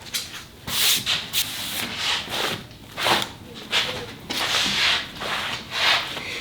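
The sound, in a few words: sliding a saw back along its track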